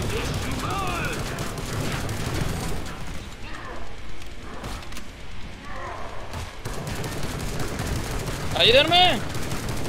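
Gunfire in the Killing Floor 2 video game, bursts of shots and weapon clatter amid a chaotic fight with monster screeches, while a player shouts in Spanish.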